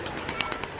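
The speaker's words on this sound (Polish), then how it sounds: "Ptaszki sobie z kamienia piją." Pigeons drinking from a stone water bowl at a hotel in Gdynia, giving a brief soft coo or two, faint and close, with quiet outdoor background.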